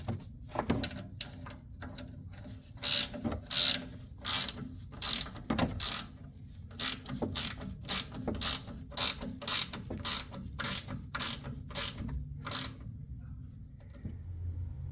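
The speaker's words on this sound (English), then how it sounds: "the 15mm ratchet box end up here works really well" A 15mm ratchet turns the bolts on a 2007 Chevy Colorado's front suspension, giving a long run of rapid, close clicking bursts in steady repeated strokes.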